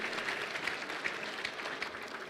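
An audience at an evening hospice benefit at a mansion applauds the mansion staff, a short, even patter of clapping hands throughout.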